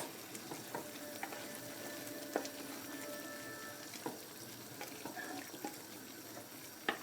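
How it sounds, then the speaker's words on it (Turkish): Güveç ingredients with black pepper sauté in a pan, giving a low continuous sizzle broken by soft scrapes and clicks of stirring, close and moderately quiet. "Biraz karabiber. Biraz kavuruyoruz."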